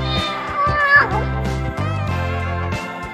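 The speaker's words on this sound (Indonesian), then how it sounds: "Suara panjang yang merupakan campuran berdengkur dan meong adalah permintaan atau tuntutan" A cat meows repeatedly in drawn-out, wavering calls, close by and fairly loud, with no talking.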